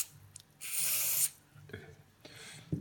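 Deoxit contact cleaner sprayed from an aerosol can onto a cell phone's charging port contacts, one close hiss lasting under a second, then a second fainter spray, with quiet handling noises.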